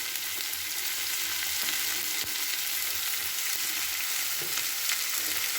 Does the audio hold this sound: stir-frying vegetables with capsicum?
yes